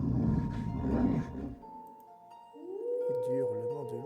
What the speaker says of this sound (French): Et du hurlement de loup.